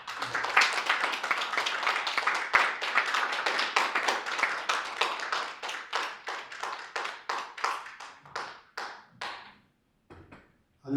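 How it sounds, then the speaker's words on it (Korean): An audience at a leadership lecture applauds, dense at first and then thinning into slower, separate claps that trail off into silence near the end. "박수 주시죠"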